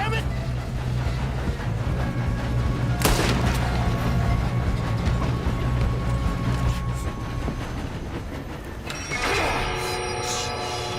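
Gunfire rings out during a train robbery in the Western video game Red Dead Redemption 2, with sharp shots over a steady rumbling train and voices speaking throughout.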